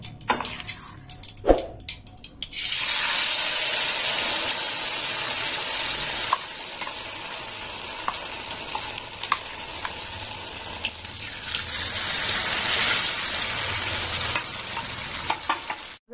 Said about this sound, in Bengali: এই দেখুন বাঁধাকপিগুলো এইরকম ভাজা হয়েছে।